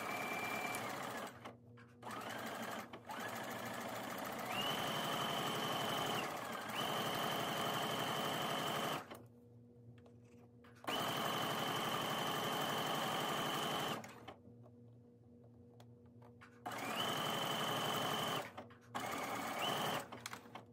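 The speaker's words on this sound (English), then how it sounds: "Sew that armhole binding on." A sewing machine stitches binding onto a garment armhole in several long runs, each steady whirring burst broken by short pauses, loud and close with no talking.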